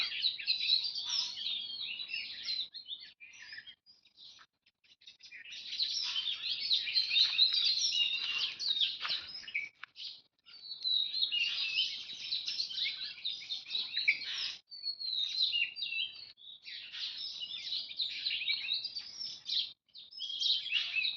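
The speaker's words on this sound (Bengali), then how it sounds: "পাখির এই কিচিরমিচির ডাকাডাকিগুলো শুনুন একবার।" Many small birds chirp and twitter at dawn in a village, a dense, continuous high-pitched chorus of overlapping calls that swells and dips in waves, with no talking.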